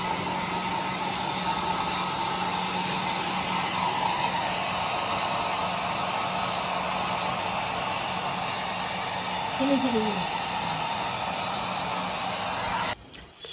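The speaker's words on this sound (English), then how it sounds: "after using the hair dryer and drying him up" Hair dryer blowing steadily on a dog during grooming, a constant loud airy whir running almost the whole time before cutting off at the end, with brief talk over it.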